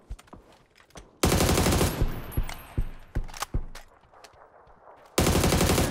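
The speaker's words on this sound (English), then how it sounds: "Getting shot from this other hill over here." Gunfire in the video game PUBG: two loud bursts of rapid automatic fire, with scattered single sharp shots and more distant cracks between them.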